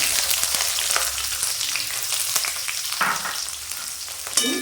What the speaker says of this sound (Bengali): পেঁয়াজটা আধা ভাজা হয়ে এসেছে